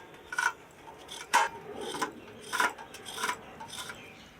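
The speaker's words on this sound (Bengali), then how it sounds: "এটা দিয়ে নারকেল কুড়িয়ে নিচ্ছি" Fresh coconut grated by hand on a bonti-style kitchen cutting tool with a fixed grater, giving short rasping scrapes in irregular strokes, close and fairly quiet, with no talk.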